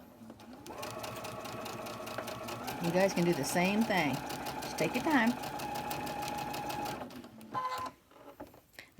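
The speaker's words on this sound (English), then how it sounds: "I'm just going to take them all and just sew one right after the other." A sewing machine stitches quilt pieces one after another in a continuous run, its steady mechanical whirring and clatter loud throughout, with a person speaking briefly near the end over the machine.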